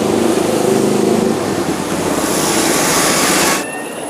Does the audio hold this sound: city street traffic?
yes